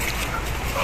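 A dog whimpers close by in a short, thin, high whine against a busy, noisy background.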